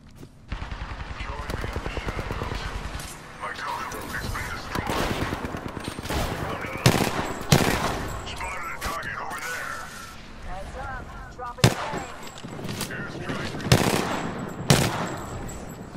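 Gunfire in the battle royale video game Apex Legends: sustained rapid automatic fire with sharp, louder individual shots cutting through, continuous and close throughout.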